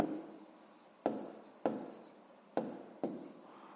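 Pen or pencil writing by hand on paper while a sixth-grade maths exercise is worked out, with four sharp stroke onsets that each decay into a scratchy trail, close and fairly quiet, with no talking.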